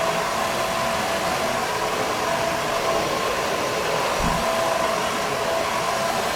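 Steady, close hair dryer airflow during styling of a short men's dandy cut, a constant even roar that holds unchanged throughout with no talking.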